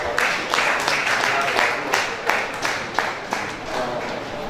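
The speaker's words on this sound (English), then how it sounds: "Please a round of applause." An audience at a school event for the International Day of Persons with Disabilities claps in a steady, moderately loud round of applause, with faint voices mixed in.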